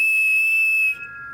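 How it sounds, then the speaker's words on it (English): A steam locomotive whistle gives one loud, steady, pure tone for about a second and then cuts off, leaving a faint hiss behind. "Thomas blew his new whistle."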